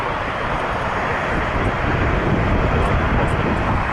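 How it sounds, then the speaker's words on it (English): Air Transat Airbus A321neo jet on approach to land at Toronto Pearson, a steady broadband engine roar with wind rush, continuous and fairly loud throughout. "We have a 321neo coming in, Air Transat from Porto."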